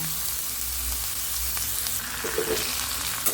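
Grated pumpkin sizzles steadily as it is fried and stirred together with roasted semolina for pumpkin halwa, a continuous close crackle with occasional scraping stirs and no voices.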